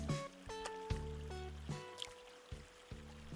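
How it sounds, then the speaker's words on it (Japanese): Bright, chiming musical notes in a short stepping melody in Animal Crossing: New Horizons, the cue for a balloon present drifting past. The tones sound close and clear, over a few seconds, with no talking. "また風船の音がする。"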